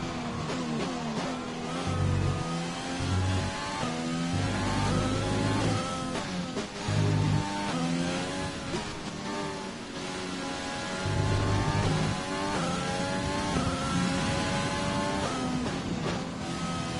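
Race cars run at Monaco in a racing video game, with a continuous engine whine that rises and falls through gear changes and revving, steady and prominent, alone without talk.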